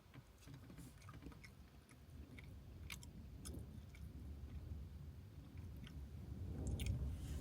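Someone chewing spicy chips up close, a quiet, continuous crunching and munching with faint crackly bites throughout.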